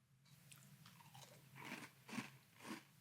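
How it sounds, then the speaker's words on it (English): Dry Stranger Things Demogorgon Crunch waffle cereal crunched between the teeth, a few close, loud bites and crunches, one after another, with no talking. "Let's try Stranger Things Demogorgon Crunch Dry."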